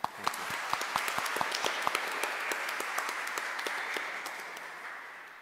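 Audience applause at a Mother's Day gathering after an Easter Sunday memorial Mass, a steady wash of many hands clapping with sharper individual claps standing out. It is fairly close and continuous, and it fades slightly toward the end.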